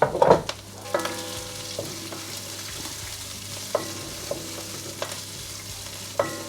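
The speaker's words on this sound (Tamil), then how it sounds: "முதல்ல இந்த இஞ்சி, உள்ளி, பச்சை மிளகாய் இது கொஞ்சம் வதங்கணும்." Ginger, garlic and green chillies sizzle steadily in hot oil, with a few sharp scrapes and clinks of a spoon stirring the pan at irregular intervals.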